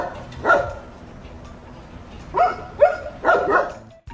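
A Central Asian Shepherd dog gives three or four deep, hoarse barks in irregular bursts, the first alone and the rest bunched closer together near the end, fairly close with no voices.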